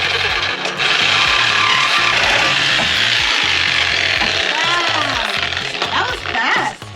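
A cheap Harbor Freight reciprocating saw cuts through the exhaust pipe of an AE86, giving a loud, steady, rasping buzz with rattling metal that runs almost continuously for several seconds before stopping.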